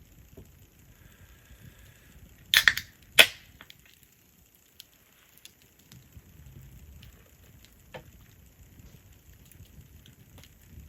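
A few sharp pops and snaps from an outdoor campfire on an autumn night, clustered in one brief burst and then sparse, quiet clicks over a low, steady background.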